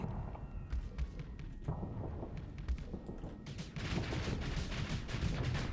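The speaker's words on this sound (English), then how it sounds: "Bastilian class exploded." A Bastilian class ship explodes in a spacefaring video game with heavy booming blasts and crackling bursts that swell louder toward the end, over a dense rumbling battle backdrop.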